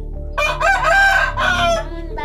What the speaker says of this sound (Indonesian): Pagi sudah datang kukuruyuk. Kokok Pak Ayam.